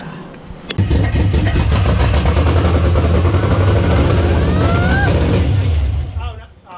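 A restored engine cranks and catches on its first start, then runs loud and steady for several seconds before fading, with people talking nearby over it.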